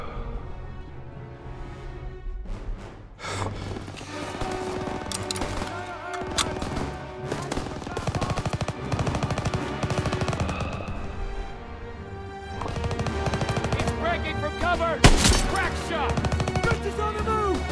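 Machine gun fire in the Call of Duty WW2 game during a forest battle near a death factory, bursts of rapid shots mixed with single shots and crashes, loud and continuous, with soldiers shouting throughout.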